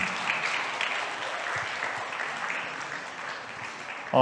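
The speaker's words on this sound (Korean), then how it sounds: "우리 박수로 환영해 주시면 감사하겠습니다" A church congregation at a Sunday service applauds to welcome a family, a dense, even patter of many hands that holds steady and fades slightly before stopping.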